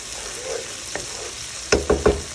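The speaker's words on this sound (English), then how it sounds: "I have about three onions pureed, and I'm frying it until golden brown" Pureed onions frying in hot oil give a steady low sizzle, with a few sharp clanks of a utensil stirring the pan near the end.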